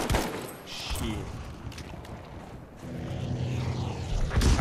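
Warplanes roar overhead amid gunfire in a Battlefield V multiplayer match, a droning engine sweep with bursts of shots, swelling and fading across the stretch before rising again near the end.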